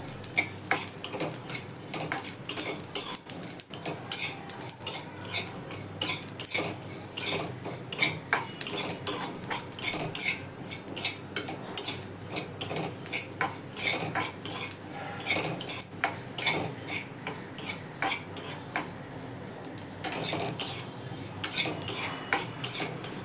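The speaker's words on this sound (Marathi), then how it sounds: "जिरे ओ आणि बडीशोपचा असा नॉर्मल तडतड तडतड असा आवाज येत आहे आपण कंटिन्यू याला हलवत राहायचं" Cumin and fennel seeds roasting in a pan, stirred nonstop with a metal spoon that scrapes and clinks steadily against the pan for the whole stretch, with a faint crackle of toasting seeds underneath and no talking.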